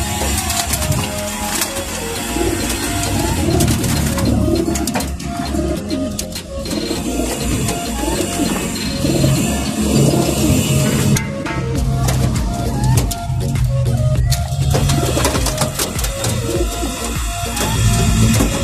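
Pigeons coo continuously at close range, low soft warbling calls overlapping each other against a busy background of fluttering and rustling.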